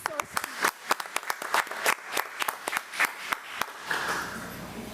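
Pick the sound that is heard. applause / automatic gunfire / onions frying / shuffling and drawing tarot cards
applause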